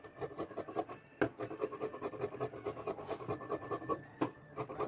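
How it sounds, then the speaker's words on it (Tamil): Scissors snipping crosswise through blouse fabric, close and quiet, a steady run of short crisp cuts with soft rubbing and rustling of the cloth in between. "இந்த மாதிரி கிராஸாக கட் பண்ணிங்கன்னா"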